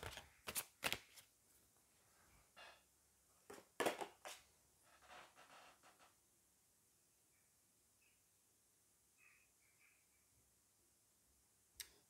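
Quick riffling shuffles of a deck of oracle cards, two short bursts near the start followed by softer handling and faint ticks, close and quiet against near silence.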